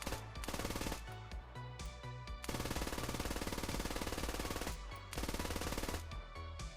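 An MG3 machine gun mounted on a German Bundeswehr vehicle fires in the Squad video game, sustained loud rattling bursts with short gaps between them, close and dense, with no talk.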